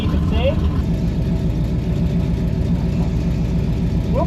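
A Jensen Interceptor car engine runs on boost and throttle, a loud steady droning rumble with a faint whistle near the start and end, while a voice talks over it.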